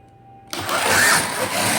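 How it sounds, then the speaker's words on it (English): Slot car wheels spinning on a Carrera digital track with worn, low-grip tires: after a brief quiet moment a sudden loud, steady whirring motor-and-wheel buzz starts and holds, close and continuous, with no talk over it. "I heard the wheels spin"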